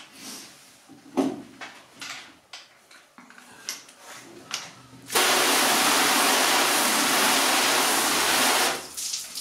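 Water sprays steadily onto a car panel coated with NEOWAX Car Wax No. 2 and primer, a loud, continuous hiss lasting about four seconds after some quieter handling noises.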